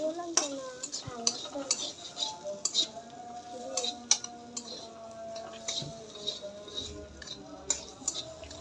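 Onions frying in a pan until reddish-brown, a low sizzle under repeated sharp clinks and scrapes of a metal spoon stirring against the pan, close and fairly quiet, with no talk.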